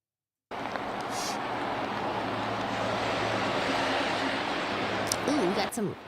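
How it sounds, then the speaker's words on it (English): Steady rain in Utah makes a dense, even hiss that fills the whole stretch after a brief silent start, with a voice briefly audible near the end. "Ooh, we got some rain ASMR going on today."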